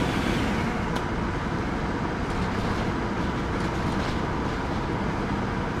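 A New Jersey Transit train passes in the simulator game Train Sim World 6, heard as a loud, steady rumbling roar with faint clattering of the wheels and no voices.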